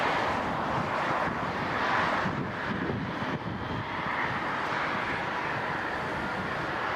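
A Jazz regional jet roars steadily down runway 05 at Toronto Pearson on takeoff, a loud, continuous broadband engine rumble with some wind noise that holds for the whole stretch.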